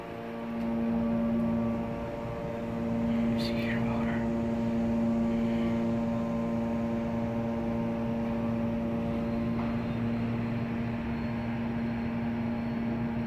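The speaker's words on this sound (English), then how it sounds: "So you can hear the motor." The motor of a modded Otis Lexan hydraulic elevator in an 11th Ave parking garage runs as a steady, close, droning hum with a fixed tonal whine, a few faint clicks and knocks over it.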